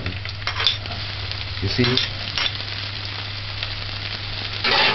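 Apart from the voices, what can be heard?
scallion sauteing and sizzling in a pan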